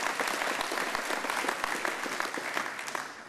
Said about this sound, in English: Let's give a great round of applause to the men and women that work at Forum already.